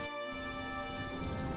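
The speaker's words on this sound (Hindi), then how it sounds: "बारिश अब तेज होने लगी थी" Rain used as a sound effect in a Hindi story of a cold, stormy night makes a steady, soft hiss, layered with sustained tonal hum and no voices.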